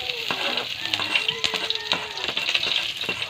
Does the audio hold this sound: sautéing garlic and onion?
yes